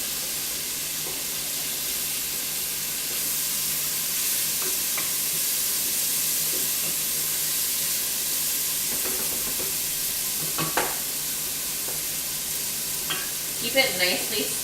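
Meat sizzles steadily in a pan for bolognese sauce, a constant close frying hiss throughout, with a few brief scraping stirs of a utensil toward the end.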